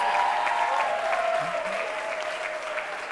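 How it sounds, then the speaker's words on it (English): Audience applause at a high school cooking competition final: steady, sustained clapping from a crowd throughout, with faint voices underneath. "Let's give them a big, big, big round of applause."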